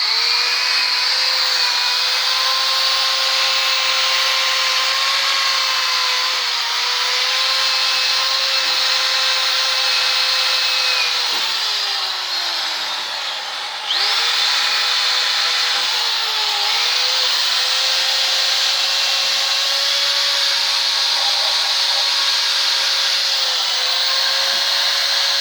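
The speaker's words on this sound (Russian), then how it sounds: "берем щетку, кисточку и щеткой чистим сначала основание" A rotary brush on a power tool scrubs the base of a Volkswagen Golf 1.6 cylinder head, giving a loud, steady motor whine that dips briefly in pitch under load and runs on without pause.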